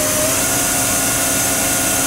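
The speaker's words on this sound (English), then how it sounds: "We're going to do just a little demonstration on the spindle speeds, just so you can kind of get an idea how the spindle sounds." The spindle of a 2000 Okuma & Howa Millac 630H four-axis CNC horizontal machining center with Fanuc 18i-M control spins at high speed, a loud, steady tonal whine with constant hum and no talk.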